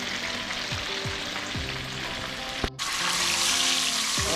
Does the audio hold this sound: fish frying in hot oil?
yes